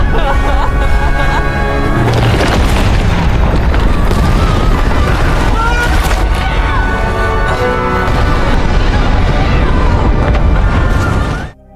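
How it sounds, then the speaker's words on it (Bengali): A massive explosion destroys a research camp in the 2025 monster film Kraken, a loud sustained boom with rumbling debris and crashes layered in a dense, continuous movie soundtrack for nearly twelve seconds. "এরপর একটা বড়সড় বিস্ফোরণে তাদের পুরো রিসার্চ ক্যাম্পটি ধ্বংস হয়ে যায়।"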